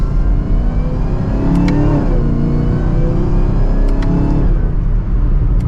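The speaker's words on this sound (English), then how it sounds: "I love that V8 rumble and that supercharger whine." A 2024 Chevrolet Camaro ZL1 with a supercharged V8 accelerating from second gear, its deep, loud engine rumble rising in pitch with a faint supercharger whine layered on top, heard from inside the car.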